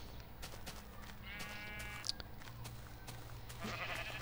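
Sheep in the Minecraft video game bleat in a short wavering call in the middle, with a second fainter bleat near the end, over a steady low in-game background hum. No one talks.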